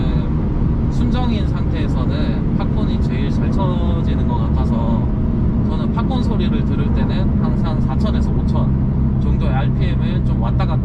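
A 2020 Mercedes CLA45S AMG revs up and down with dense exhaust rumble and scattered crackling pops, loud and continuous, while a voice talks over it.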